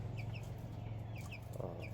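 Several silkie chickens cluck softly and intermittently at a distance over a low, steady hum of background noise.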